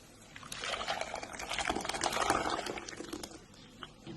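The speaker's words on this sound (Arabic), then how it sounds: "هنحط الملوخية عليها" Molokhia poured onto tomatoes in a cooking pot, a soft wet pouring and splattering rush that builds and then trails off, close and fairly quiet.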